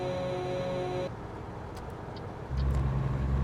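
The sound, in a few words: cars racing on road in American Truck Simulator video game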